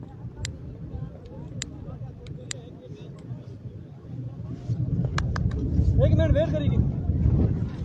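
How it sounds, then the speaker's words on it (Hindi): A strong gust of wind buffets the microphone at an outdoor cricket quarter-final, a rising low roar swelling over the last few seconds beneath a commentator's excited voice and crowd noise. "तेज हवा का झोंका"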